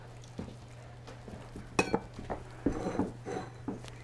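Quiet cutting sounds from a knife slicing a plant-based meat loaf, with soft scrapes followed by a few sharper clinks of a blade touching a plate, over a constant low hum.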